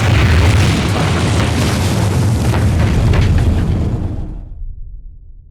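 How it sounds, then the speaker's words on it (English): A large tank of gasoline rigged with high explosive detonates in the desert for a film, producing a loud, continuous roaring boom that rumbles on for about four seconds before fading out. "folks were buying tickets just to sit in a dark room and watch a bomb go off"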